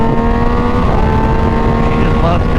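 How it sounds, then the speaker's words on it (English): A Triumph Daytona 660 sport motorcycle with a BT Moto tune engine braking on a highway, its loud, steady engine drone shifting slightly in pitch, with a wind rush behind it. "the engine braking here, even on the highway, as you can see, is very, very, very good"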